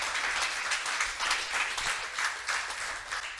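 Soft, distant applause from a congregation during a church sermon on baptism, fairly faint clapping with gentle swells in rhythm, no speech over it.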